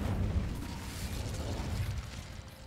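Incendio fire spell bursting in the video game Hogwarts Legacy, a low rumbling whoosh of flame with a muffled boom at the start that rolls on steadily and slowly fades.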